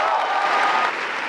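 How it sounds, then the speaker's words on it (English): Graduating class of 2017 gives itself a round of applause at a commencement ceremony, a dense, steady wash of many hands clapping throughout, loud and sustained without pause. "Yes, give yourself a round of applause, please."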